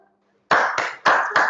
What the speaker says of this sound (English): If you see my hands going up, you're going to clap very hard, very fast.